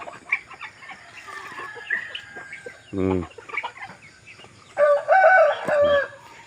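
Backyard chickens and ducks at feeding time: clucks and short calls scatter throughout, a rooster-like crow breaks in near the middle, and louder squawking calls follow toward the end, all close by.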